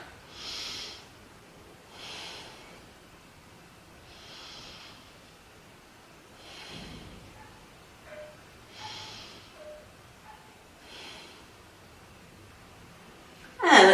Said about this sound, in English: Now let's breathe into the rib cage, nice deep breaths